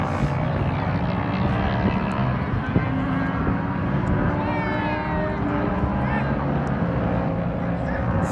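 Distant teenagers' motorbike engines drone and whine continuously, rising and falling in pitch through a constant broadband crowd-like background wash at a football match.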